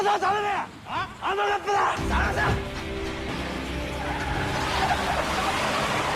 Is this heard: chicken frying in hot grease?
no